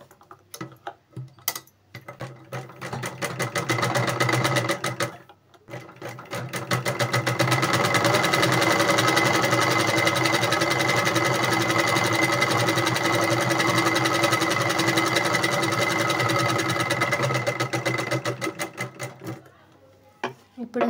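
A sewing machine runs steadily, stitching a cloth sleeve with a rapid, even mechanical ticking. Two short starts and stops come first, then a long continuous run of stitching before it winds down.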